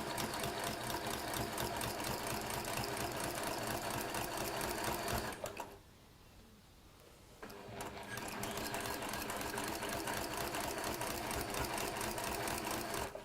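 A sewing machine stitches through quilt layers of pieced top, wadding and backing fabric with a fast, steady mechanical whir. It stops for about two seconds midway, then resumes, close and alone.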